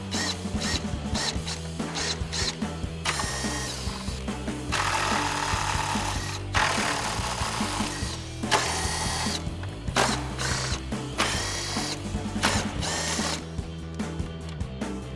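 An impact wrench with a 10mm socket and small extension removes fasteners from a 2019-2024 RAM 2500 headlight area, with repeated short bursts of whirring and rattling between quieter handling noises.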